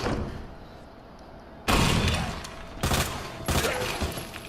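Gunfire in the Resident Evil 2 video game: three loud, sharp bursts of shots break a quiet background, each followed by a ringing decay.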